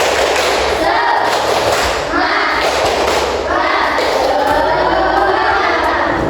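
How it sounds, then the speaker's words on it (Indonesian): A school class doing a rhythmic spirit clap together, loud and close, with repeated thumping claps and children's voices running throughout. "Coba kita tepuk semangat dulu."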